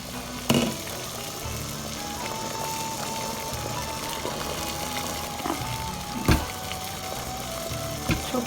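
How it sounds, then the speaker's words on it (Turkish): Low bubbling and hissing of salted water heating in a pot for making manti, steady throughout, with a few sharp knocks and clinks scattered over it. "suyumu koydum. Kaynıyor."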